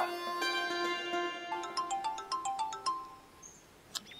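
A phone ringtone chimes in a quick melodic pattern of bright tones, fairly close and clear, with no voices.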